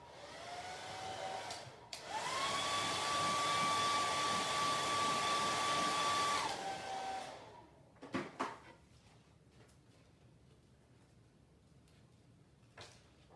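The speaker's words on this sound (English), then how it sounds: "we need the blow dryer" A blow dryer whirs on with a rising whine, runs steadily for several seconds while drying a chalk-decorated porch sign board, then winds down, followed by a few clatters and knocks.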